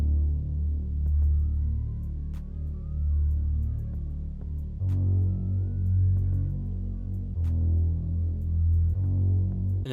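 A deep, throbbing synth bass sits over a soft sustained pad, pulsing steadily throughout with a low, warm rumble and occasional faint clicks.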